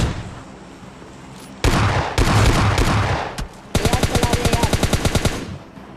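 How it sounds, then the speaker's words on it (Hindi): AWM sniper rifle gunfire in PUBG Mobile Lite, sounding as loud, close bursts of game gunshots, with a long run of rapid evenly spaced shots near the end and no speech over them. "मारेंगे तो एडब्ल्यूएम से ही कम से कम एक शॉट तो बनता है मारना"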